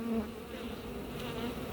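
A honeybee swarm being hived, a steady close buzzing drone of many bees that holds evenly throughout with no voices.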